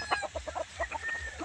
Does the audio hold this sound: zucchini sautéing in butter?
no